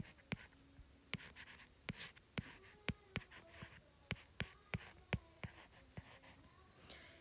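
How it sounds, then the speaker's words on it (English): Marker or pen writing out a math problem on a board, with sharp periodic taps and squeaky strokes repeating steadily at close range, no talking. "While I write down the problem, you're going to try your own again."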